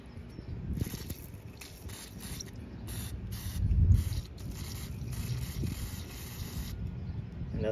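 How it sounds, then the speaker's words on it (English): Aerosol cleaner sprayed in steady hissing bursts onto a Honda mass airflow sensor in the air intake, close and fairly loud, with a can that is nearly empty. "we're gonna clean the mass airflow sensor with some of this cleaner"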